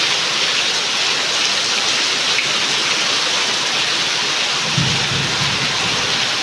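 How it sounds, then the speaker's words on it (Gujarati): Heavy rain pours down steadily without a break, a dense hiss close by, with a low rumble of thunder rolling in near the end. "આ વરસાદ બહુ છે બધે વીજળી જો થાય"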